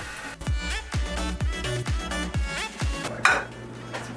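A pan handled and olive oil poured in on a kitchen stovetop, heard as a run of clanking metal knocks about every half second over a steady clatter, close and fairly loud with no talk.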